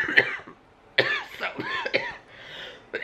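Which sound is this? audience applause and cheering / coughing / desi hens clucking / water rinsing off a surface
coughing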